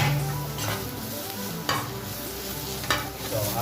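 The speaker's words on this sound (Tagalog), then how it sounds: "first, saute muna natin ng fresh mushroom" Fresh mushrooms sautéing in a pan, with a busy sizzle and frying crackle under repeated stirring scrapes and a couple of sharper clinks, all close and fairly loud, with no one speaking.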